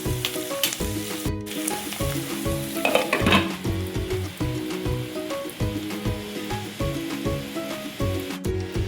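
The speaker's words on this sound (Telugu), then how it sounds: "చూడండి, ఇలా మంచిగా ఆయిల్లో ఫ్రై అవ్వాలి." Potatoes and chana dal fry in oil in a pan, a steady close sizzle with repeated clinks and scrapes of a spoon stirring through, no voices.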